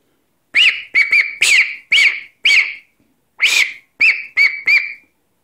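A homemade shot shell whistle duck call blown in a series of about nine short, loud, high whistling toots, in a quick run of five, a brief pause, then four more, with no voices.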